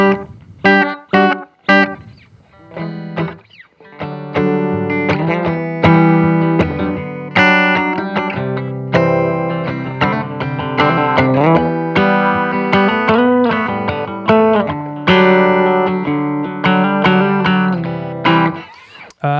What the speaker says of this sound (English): Most analog delays, I find that when you're below a quarter, below 9 o'clock, you kind of get into this realm that I'm talking about here.